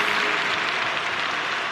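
Steady, dense crowd applause fills the arena in the London 2012 Olympic video game during a shooting and javelin event, a continuous loud wash of clapping with no gaps.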